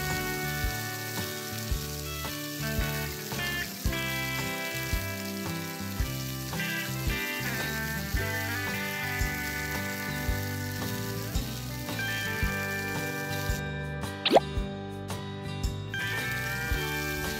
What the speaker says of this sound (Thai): พอน้ำมันร้อนเราก็เทไข่ที่ตีไว้ตะกี้ลงไปเจียวให้สุกเลยนะคะ